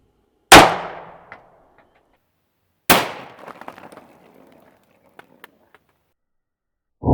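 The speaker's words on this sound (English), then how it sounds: "this is really weird shooting a 9mm sitting down" Two sharp, loud 9mm pistol shots fired into a block of 4000 paintballs, each a close crack trailing into scattered rattling and clatter, a few seconds apart, with a third blast starting at the end.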